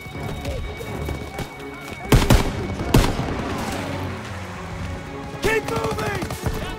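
Machine gun fire in a Call of Duty: WWII battle, several sharp bursts rattling out over a busy wartime soundscape with shouted voices and other combat noise.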